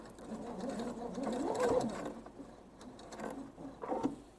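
A home sewing machine top stitches along the edge of a fabric thread catcher, running in a steady mechanical whir that swells and eases over a few seconds, close and clear.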